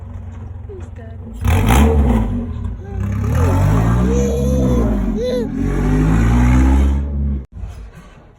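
A Honda H22 engine in an EF build revs hard with a part striking the crank pulley, a loud, close, wavering roar with clattering, briefly cutting out near the end as people talk over it.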